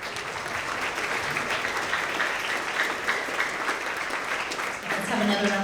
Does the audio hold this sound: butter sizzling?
no